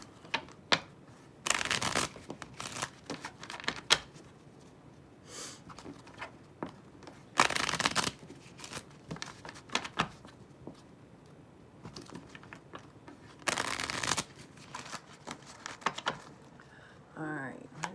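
Tarot cards shuffled for a three-card pull, with several sharp riffling bursts spaced a few seconds apart and softer card handling between them, while a person talks.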